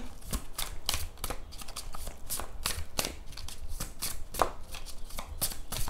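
Tarot cards are shuffled and handled in rapid, crisp flicks and slaps, a steady run of close, dry papery clicks with no talking.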